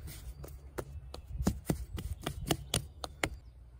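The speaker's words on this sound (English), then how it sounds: "to go and carve a hazel rod" Knife carving a hazel rod outdoors, a quick series of about a dozen sharp, close whittling strokes in an uneven rhythm, moderately loud with no talking.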